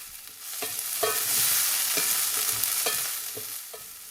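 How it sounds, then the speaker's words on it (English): Fresh garden peas stirred in a hot pan, a spoon scraping and clacking in several distinct strokes about every half second over a steady bright sizzle, close and moderately loud. "I'm giving that a good stir."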